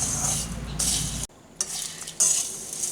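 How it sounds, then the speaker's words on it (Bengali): Flattened rice and melting sugar are stirred in a frying pan with a scraping, sizzling hiss. The stirring pauses briefly partway through, then resumes in short scraping bursts. "আর এই চিনিটা পুরোপুরিভাবে গলে গিয়ে এই চিড়ের সাথে ভালোভাবে মিশে যাওয়া পর্যন্ত কিন্তু আমাদেরকে এইভাবে এটাকে নাড়তে হবে"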